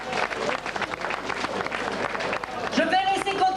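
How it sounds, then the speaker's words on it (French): An audience at a 1994 prize-giving applauds the caterers, a dense round of clapping heard close, with voices talking and calling out over it toward the end. "si vous avez bien mangé, donnez-leur un petit ou un gros applaudissement"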